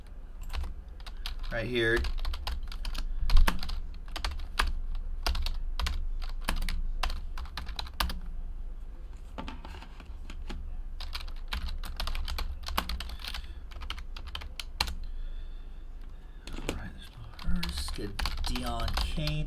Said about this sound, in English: let's type in all of the hits